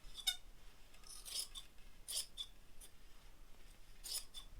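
Fibreglass reinforcing strip for a hydrofoil wing being cut to about 60 millimetres, giving a few quiet, crisp snips spaced unevenly over a soft hiss.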